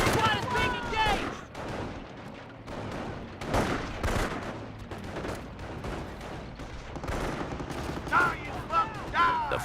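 Gunfire as a rifle squad is engaged in the World War II strategy game Company of Heroes: dense overlapping rifle and machine-gun bursts with distant explosions, continuous over the whole stretch, with game voices shouting over it.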